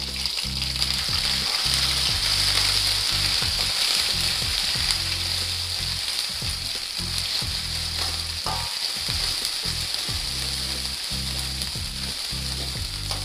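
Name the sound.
stirring chicken frying with lemongrass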